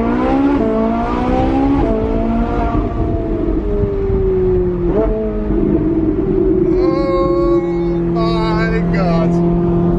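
A Ferrari accelerating hard, its loud, close engine note climbing steadily in pitch through several gear changes, then holding a high, sustained roar.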